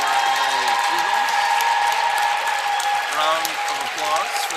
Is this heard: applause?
yes